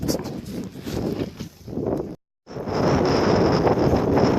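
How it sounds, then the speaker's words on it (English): Strong wind roars across a microphone on the Appalachian Trail, a steady buffeting rush that drops out briefly before surging back loud and constant. "Wind is blowing so bad out here, it's hard to stand up."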